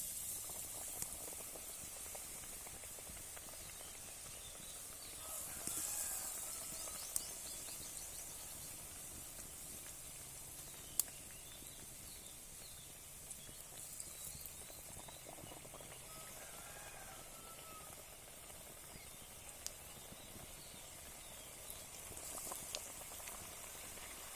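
Sweet potato bajji fry in hot oil in a village kitchen, a faint, even bubbling sizzle with scattered tiny pops that runs on steadily with no voices.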